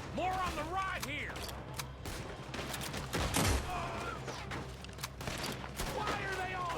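Gunfire from the video game Red Dead Redemption 2 crackles in a dense fusillade of rapid overlapping shots, with game voices talking over it and a heavier burst in the middle.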